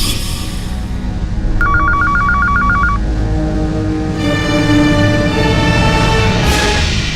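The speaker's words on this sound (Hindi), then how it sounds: "कोई फोन क्यों नहीं उठा रहा है?" A telephone rings in a steady electronic burst pattern, loud and close, over a continuous background hum, with no one answering.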